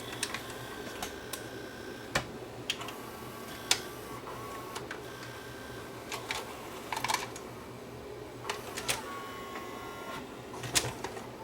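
Tape player straining to eject a tape: sharp mechanical clicks and ticks at irregular intervals over a low motor whir, close and fairly faint, no talk.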